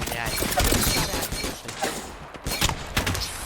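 Rapid bursts of gunfire in the video game Apex Legends crackle in quick volleys, some sharp single shots among them, loud and continuous with no clear speech.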